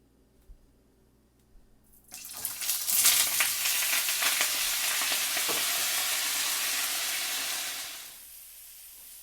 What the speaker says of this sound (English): we are gonna start frying our potatoes to make sure they get the golden edge